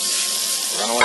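Garlic sizzles loudly in a hot pan with browned mushrooms and onions, a steady close frying hiss holding for about a second.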